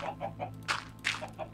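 Minecraft chickens clucking in short repeated bursts, several soft clucks at a steady rhythm with two louder, brighter squawks in the middle, close and alone without talk.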